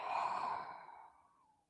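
A single long, audible exhale during a yoga session, breathy and close, starting fairly strong and slowly fading away over a second and a half, with no talk.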